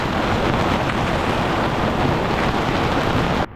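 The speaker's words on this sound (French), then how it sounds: "un petit coup de vent avec de la pluie qui vient de passer" A gust of wind with passing rain sweeps across Gaspé Bay as a steady, loud, broadband rush with no voices, dropping off abruptly at the very end.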